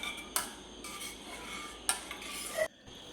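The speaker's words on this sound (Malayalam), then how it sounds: "ഇളക്കി കൊടുത്തു." A spoon scraping and clinking against a bowl while stirring caramel pudding mixture, with a few sharp metallic taps against the rim amid softer swirling scrapes, close and alone, ending in a brief pause.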